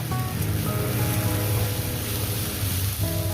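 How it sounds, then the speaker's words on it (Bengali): Water spinach greens with bitter gourd sizzle in a frying pan, a constant dense hiss of frying that stays even for a few seconds over a low background hum. "এইভাবে শাকটা ভাজা করবেন"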